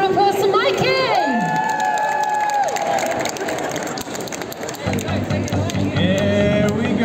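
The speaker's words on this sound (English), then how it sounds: "Can we give another round of applause to Mikey?" Audience at a karaoke show in Waterloo Station, London, cheering and applauding loudly, with a crowd roar mixed with shouting voices and sustained vocal tones echoing through the busy hall.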